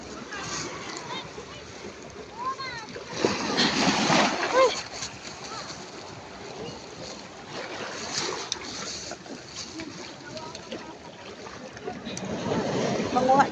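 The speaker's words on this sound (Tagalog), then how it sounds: "Lumalakas yung alon." Sea waves wash and splash along a shell-strewn shore in repeated surges, with several louder crashes between quieter stretches, while people nearby talk and exclaim throughout.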